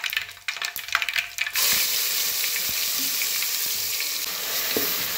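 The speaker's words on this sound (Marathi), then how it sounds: "आता त्यात टाकूया आपण बारीक केलेला मसाला" Ground coconut masala hits hot oil in a pan already crackling with mustard seeds and curry leaves, bursting into a loud, steady sizzle after a second and a half of sputtering and holding strong to the end.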